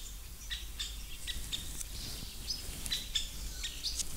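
A woodpecker in an old forest calls agitatedly right after a tawny owl, giving a string of short, sharp, moderately faint notes that come at irregular but frequent intervals with no voices.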